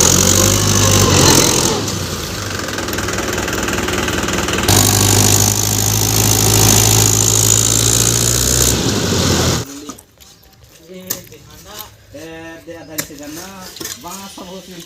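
A tractor engine drones steadily and loudly for about ten seconds, then cuts off, leaving quieter sounds and a voice talking.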